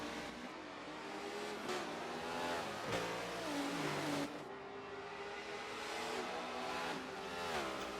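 BMW and Lamborghini race cars in a GT racing video game at Long Beach, engines revving and shifting through gears in rising and falling whines, loud and sustained with no talk.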